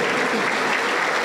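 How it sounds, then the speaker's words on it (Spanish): A church congregation claps its hands in praise during a worship service, producing a loud, dense, continuous wash of clapping from many people. "Todos, todos alabando con sus palmas al Rey de Reyes"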